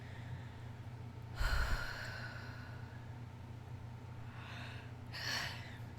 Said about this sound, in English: take a deep breath or two